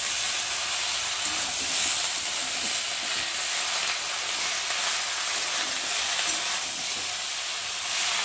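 Malabar spinach and mixed vegetables fry in a pan, producing a steady, even hiss of sizzling that holds at one level throughout with no clear stirring strokes.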